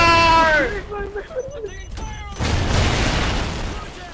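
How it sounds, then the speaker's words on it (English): A loud, rumbling explosion in the Call of Duty video game bursts out partway through and fades over the following seconds, with excited voices talking over the start. "That's just an explosion."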